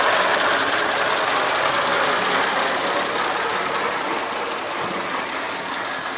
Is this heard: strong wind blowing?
no